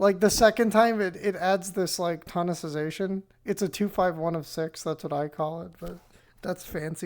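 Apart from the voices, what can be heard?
None of the usual background noises is heard.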